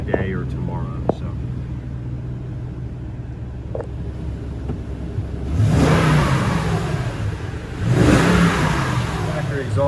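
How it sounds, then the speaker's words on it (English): A 2008 Toyota Tundra pickup with its factory exhaust idles with a low rumble, then is revved twice in strong, loud bursts about two seconds apart, each swelling and falling back to idle. "Factory exhaust."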